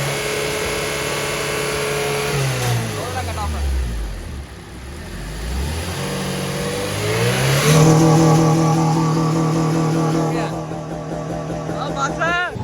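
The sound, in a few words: Honda K20 Type R engine revving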